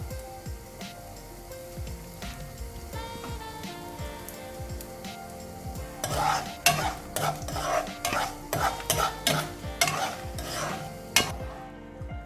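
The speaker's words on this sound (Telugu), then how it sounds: "ఇప్పుడు పప్పులు వేగుతున్న టైంలోనే మనం ఒక చిన్న స్పూన్ తోటి ఆవాలు" Lentils and mustard seeds with asafoetida frying in hot oil for an Andhra aloo capsicum curry, a steady close sizzle with spoon scraping and stirring clatter that grows louder and sharper in the second half.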